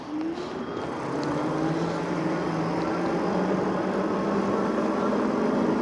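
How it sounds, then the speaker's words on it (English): Hiboy P6 fat tire e-bike accelerating on throttle alone at half battery, a steady, loud whirring drone with a rising tone and heavy wind rush throughout, no voices. "let's go and try out the acceleration right now with half a battery"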